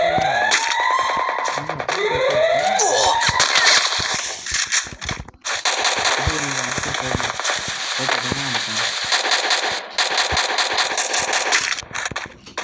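Rapid bursts of gunfire and a blast from the mobile battle royale game Free Fire, dense and loud throughout with sweeping tonal game effects and sharp impacts, brief pauses between volleys.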